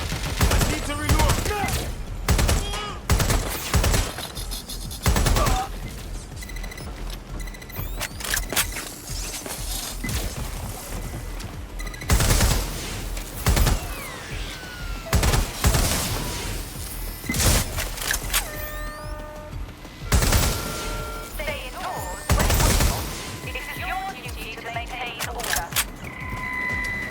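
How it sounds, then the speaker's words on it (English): Gunfire in Watch Dogs: Legion, repeated sharp shots and short bursts scattered through a long stretch of combat, loud and close, with game character voices speaking at times between the shots. "Shots fired!"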